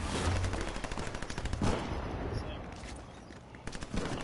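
Rapid automatic gunfire in the video game Fortnite, dense bursts of shots that pause briefly and then resume, loud and close, with a voice talking intermittently underneath.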